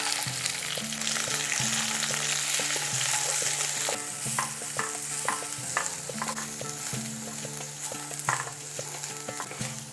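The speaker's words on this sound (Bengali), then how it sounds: "এরপর ফোড়নে দিয়ে দিচ্ছি গোটা জিরে, দিচ্ছি কাঁচা লঙ্কা কুচি, দিচ্ছি কুচি করে রাখা পেঁয়াজ, দিচ্ছি কিছুটা বাদাম" Whole cumin, chopped green chili, chopped onion and peanuts frying in hot oil for a tempering, a steady bright sizzle with repeated spoon clinks and scrapes against the pan as the mix is stirred.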